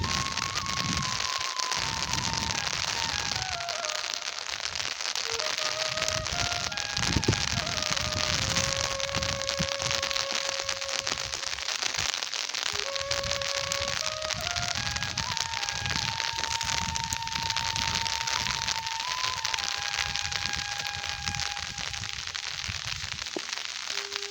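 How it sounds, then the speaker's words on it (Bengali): Steady pattering rain fills the scene, dense and even throughout, with a soft wavering melody faintly audible over the downpour. "টুপটাপ বৃষ্টি আহ কি শান্তি"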